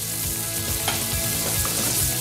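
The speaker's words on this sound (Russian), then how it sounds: "С одной стороны уже появилась приятная корочка, теперь поджаривается другая сторона." Chicken fillet fries in a pan as its second side browns, giving a loud, close, continuous sizzle with small crackles and pops throughout.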